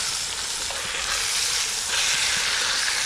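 Steak fries in a not very hot, crowded pan on a Trangia camping stove, with a continuous close sizzle and occasional crackles.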